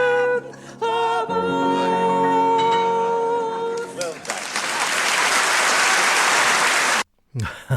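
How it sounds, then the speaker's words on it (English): Following a sustained sung and played note at a swing music concert, an audience breaks into broad, loud applause that holds for a few seconds before cutting off. "great applause there for a great song"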